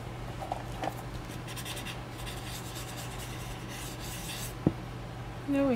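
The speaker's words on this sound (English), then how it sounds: "Press the pencil harder and lift it higher." A pencil presses hard on paper while shading in a sixth-grade printmaking class, making soft, continuous scratchy rubbing strokes. There is a single sharp tap near the end, then a brief tonal sound.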